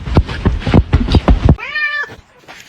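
A cat gives one clear, drawn-out meow after a run of rapid thumping and shuffling noises, close and fairly loud.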